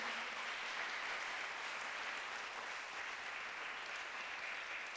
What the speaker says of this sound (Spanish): Dale el aplauso a Jesús, dáselo.